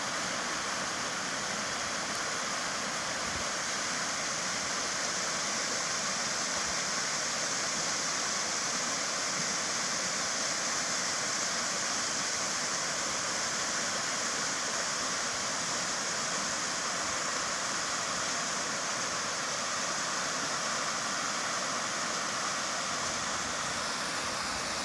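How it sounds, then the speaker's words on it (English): Steady rushing water from a waterfall on a long-distance hiking trail near a bridge crossing, a broad, even roar that holds unchanged from start to finish with nothing else breaking through. "We have this beautiful waterfall here."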